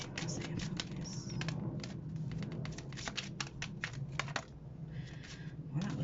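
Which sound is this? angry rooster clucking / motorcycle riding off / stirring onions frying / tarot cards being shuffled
tarot cards being shuffled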